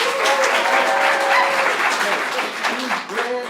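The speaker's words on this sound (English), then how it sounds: "Round of applause." A theater audience breaks into a round of applause, dense clapping mixed with cheers and voices carrying over it.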